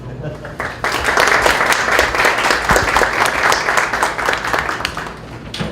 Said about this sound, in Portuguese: Temos uns aplausos do nosso presidente.